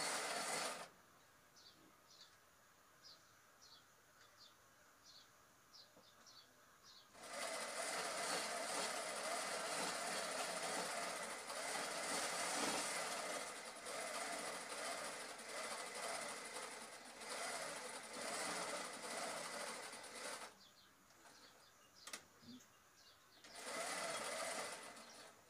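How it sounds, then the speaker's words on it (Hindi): A sewing machine stitches both side seams of a ladies suit, its fast mechanical whir running in long loud bursts with short quieter pauses and softer ticking passes between them. "दोनों साइड की सिलाई"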